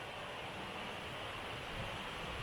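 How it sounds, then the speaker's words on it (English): A small waterfall in the Galloway forest heard from a distance, a faint, steady broadband rush of falling water with no talking over it. "Little waterfall in the distance."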